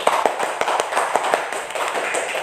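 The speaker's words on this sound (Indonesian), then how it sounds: "tepuk tangan untuk kita semua." Students in a classroom clapping together, a loud run of sharp, fairly regular claps with a few stronger accents, close by and without talk.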